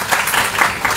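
Applause from a gathered audience at an oath-taking ceremony for a women's chamber, a brief steady patter of many hands, moderately loud with no talk.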